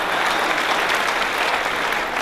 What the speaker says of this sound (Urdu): تو پھر مردوں کی طرح تالیاں بجا دیجیے۔